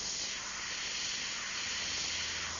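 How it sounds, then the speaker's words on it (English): A spray paint can sprays black paint onto a repair area of an artwork, giving a continuous, even hiss that holds steady throughout, close and alone. "We'll just spray a little bit of black in there."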